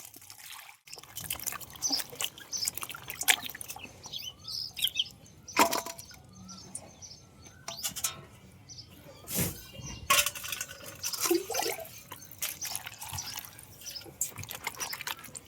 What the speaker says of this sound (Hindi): 3 बार साफ पानी से धो दिया, चौथी बार धो रहे हैं।